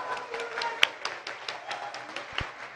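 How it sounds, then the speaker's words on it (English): Scattered, sparse hand clapping with a few sharp taps greets the Chief Minister of Uttar Pradesh arriving at a university convocation, faint and thin rather than a full ovation. "A huge round of applause."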